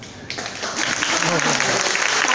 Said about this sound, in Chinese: 我们再次热情掌声来谢谢处长哦